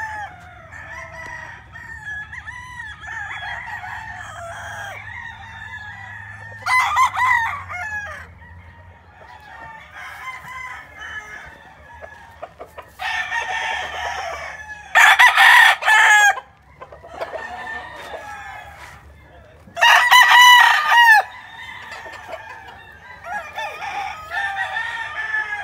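Several gamecocks crow loudly and repeatedly at close range, with long strained calls overlapping and punctuated by bursts of harsh clucking and squawking, over a low hum.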